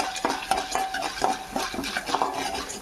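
Curry leaves and chili powder are stir-fried in a pan, a utensil scraping and tapping in a quick, regular rhythm at moderate closeness, with only a faint frying hiss beneath and no talking.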